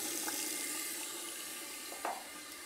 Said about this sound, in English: It works. The cold water is working.